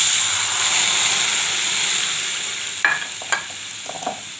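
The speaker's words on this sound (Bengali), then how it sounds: "এবার ডালটা ফোড়ন দিয়ে দিচ্ছি" Boiled dal being tempered with spices in hot oil, a loud, steady close sizzle hissing throughout, with a few sharp clinks of a spoon near the end.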